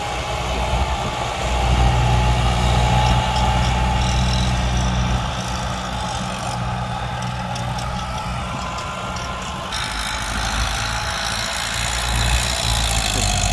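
An M88 bulldozer pushes soil while clearing land for a housing development, its engine running steadily with a deep, loud, continuous rumble close by that barely changes over the stretch, with no talk over it.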